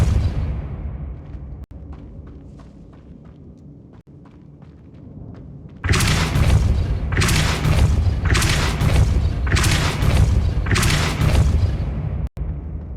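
Depulso force spell in Hogwarts Legacy, a heavy booming blast that starts after quiet ticking and then pulses in repeated loud rumbling waves, close and full.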